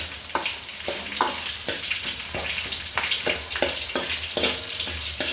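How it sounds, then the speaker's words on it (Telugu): Dried red chillies frying in hot oil, a dense continuous crackle and sizzle with regular stirring scrapes every half second or so, close and fairly loud, no voices. "ఎండుమిర్చి వేసుకొని కొంచెం లైట్గా వేయించుకోవాలి"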